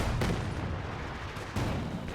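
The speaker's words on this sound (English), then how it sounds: "the barrage from the Zis gun is firing into the wreckage of the T-3045 and accomplishing absolutely nothing" Barrage fire from a ZiS gun in Company of Heroes 2, two heavy booming shots about a second and a half apart over a rumbling battlefield wash.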